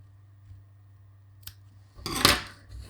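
Scissors snip fabric for a small owl or penguin pin cushion, a single faint click followed by one sharp, close cutting crunch near the end against a quiet room hum.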